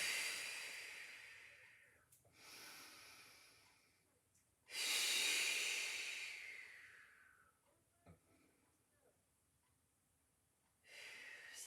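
Slow, controlled breathing during a Pilates exercise: long airy inhales and exhales, close and soft, in steady cycles with quiet pauses between breaths.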